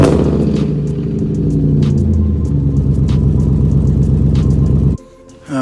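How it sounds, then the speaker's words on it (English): A BMW E39 engine runs with a steady, loud, close rumble that idles evenly, then cuts off abruptly near the end. "let me just go start the car, start the beast up"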